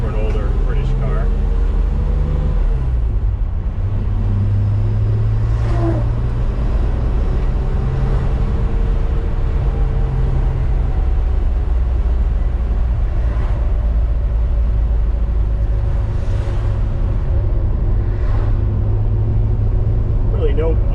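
Engine of a 1968 MG C GT on the move, a smooth, torquey drone with steady low rumble and occasional shifts in pitch, loud and close from inside the car, continuous with no talk.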